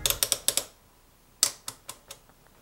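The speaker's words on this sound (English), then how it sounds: "It has a nice big display on the front with a clicky button, which is quite satisfying to change the measuring modes." A DT-9205M multimeter's mode button is pressed repeatedly, giving crisp, close plastic clicks: a quick run of five, a pause, then another run of five more spaced-out clicks.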